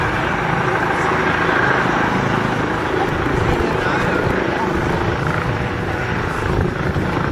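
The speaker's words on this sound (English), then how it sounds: "There's an ambulance helicopter landing on our right," A loud, steady rotor roar with dense low-end rumble persists throughout from an ambulance helicopter landing very close by at an airport heliport, with no clear pauses.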